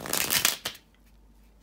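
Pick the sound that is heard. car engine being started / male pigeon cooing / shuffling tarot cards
shuffling tarot cards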